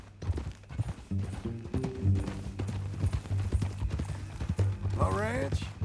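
Rhythmic clip-clop of horse hooves walking in the video game Red Dead Redemption 2, close and steady, under conversation between men, ending with a horse's whinny.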